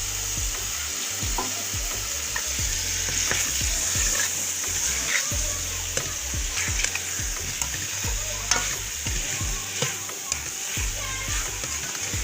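Turnips stir-fried in a pan, with continuous loud sizzling and splattering and frequent scraping stirs close up, plus a faint low hum underneath.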